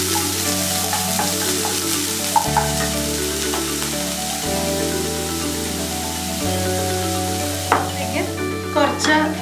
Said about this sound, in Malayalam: ജസ്റ്റ് ഒന്ന് വഴറ്റിയെടുക്കാം.